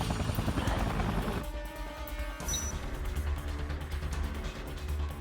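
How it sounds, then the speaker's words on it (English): In the Dead Rising remake video game, an attacking helicopter gives a loud, continuous rotor roar that dominates throughout, with harsh, dense chopping. "There's a chopper shooting at me."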